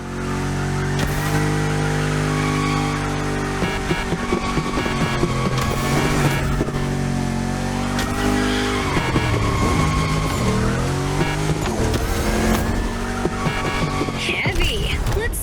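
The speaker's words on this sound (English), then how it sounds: "Drift." Car drifting with tire squeal in The Crew Motorfest racing game: a loud, steady engine drone with long squealing tire slides and revving swells, continuous over the whole stretch, with brief voice fragments mixed in.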